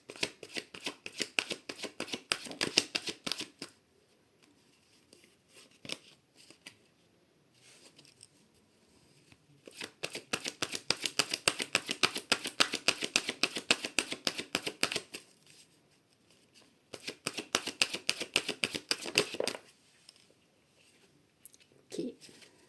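Tarot cards shuffled by hand nearby: three long bursts of rapid riffling, each followed by a quiet pause with a few soft card sounds in between.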